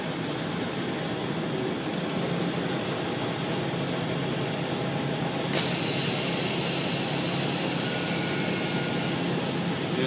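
Truck hauling a trailer has its engine fired up, a steady low rumble that abruptly jumps into a louder, brighter roar partway through and holds there, with no one speaking.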